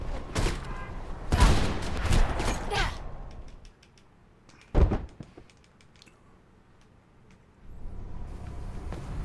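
Bursts of gunfire in the first-person game Mirror's Edge, a loud rapid volley early on, then a single sharp shot midway, with quieter thuds and clatter in between and a low rumble at the end.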